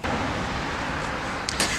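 Steady broadband road noise from passing traffic on a busy street, constant throughout with a couple of brief hissy swells near the end.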